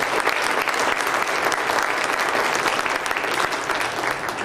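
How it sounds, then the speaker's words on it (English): Convention audience applauding the program and convention staff at the Starbase Indy opening ceremony, a loud dense sustained wash of clapping with no pauses, close and filling the room. "let's give a round of applause for the program and convention staff for Starbase Indy"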